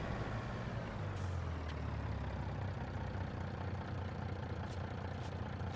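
A truck in a farming video game, its engine a constant low rumble with airy hisses of air brakes, several short hissing releases standing out over the steady drone, no voices.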